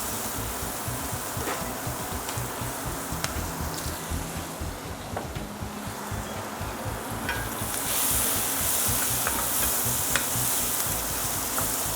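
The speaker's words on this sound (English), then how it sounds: "I'm going to add the green onions to it, and I'm kind of going to brown them." Green onions sizzle and brown steadily in a pan for a masala at Vij's Restaurant in Vancouver, a dense continuous fry with occasional stirring scrapes that grows brighter and louder partway through; no one speaks.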